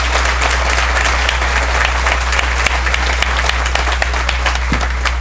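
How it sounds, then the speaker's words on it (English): Steady, dense applause from a large crowd, continuous and fairly loud with no voices rising above it. "Please give them a round of applause as they come up"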